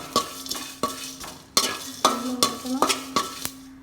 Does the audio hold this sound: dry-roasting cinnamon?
yes